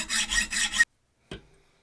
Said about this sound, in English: we'll cut that with using the hacksaw